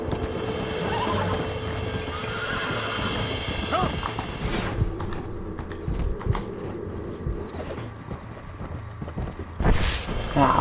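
Rhythmic horse hoofbeats clop along steadily with occasional whinnies in the video game Red Dead Redemption, under a constant synthetic background and brief bursts of talk.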